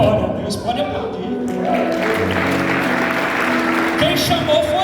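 A church congregation applauds, with steady clapping that swells and holds, mixed with voices and a tonal hum of music underneath.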